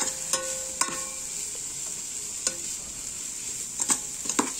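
Egg and cabbage curry with green chillies and coriander leaves being stirred in a pan: a steady bright sizzle runs throughout, broken by a handful of sharp spoon scrapes and clinks at irregular intervals, with no voices.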